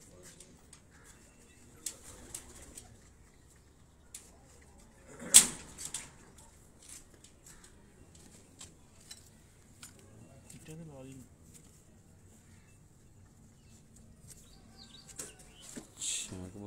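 Pigeons on a rooftop loft in Sheikhupura during a pigeon-flying contest, soft cooing and a few bursts of wing flapping, one sharp flutter standing out, with faint background noise and quiet stretches between.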